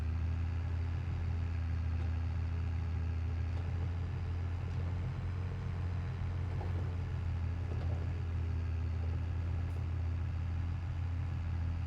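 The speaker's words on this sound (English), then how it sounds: "Oh, come on, tractor. Climb the hill." A tractor engine in Farming Simulator 22 labors up a hill with a steady, low, droning rumble that stays fairly quiet and even throughout.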